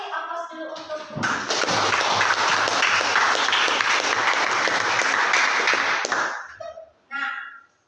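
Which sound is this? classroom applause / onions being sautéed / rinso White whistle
classroom applause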